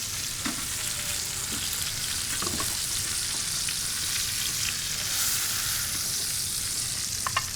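A steak searing in a hot pan, giving a steady, close sizzle and crackle with faint clatters of utensils, running continuously with no talking.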